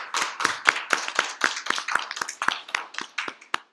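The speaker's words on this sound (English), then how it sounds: "Can we give a clap of praise for the Lord?" Church congregation clapping in praise during a year-end service, a few people striking hands in a fairly steady, separate rhythm, crisp and close, with no voices.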